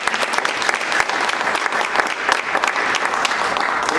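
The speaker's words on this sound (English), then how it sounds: "So let's have a round of applause." Enthusiastic applause fills a business speaker-series hall, many hands clapping close and continuously at an even intensity for about four seconds.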